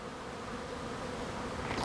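Honeybees from a healthy, chemical-free colony hum steadily at the hive, a dense continuous buzz with no pauses and nobody talking.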